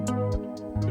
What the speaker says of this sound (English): together, those two hats and the instruments sound like this